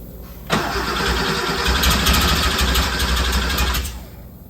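A 1974 Porsche 911S turns over and catches on its first start, the engine roaring up abruptly and running rough and loud for a few seconds before tailing off, with no talking.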